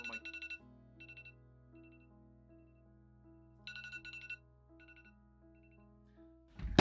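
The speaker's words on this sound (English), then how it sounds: "Always silence your phone when recording YouTube videos." A mobile phone ringtone plays in short repeated melodic bursts with pauses between them, fairly faint and alone, ending in a sudden loud bump.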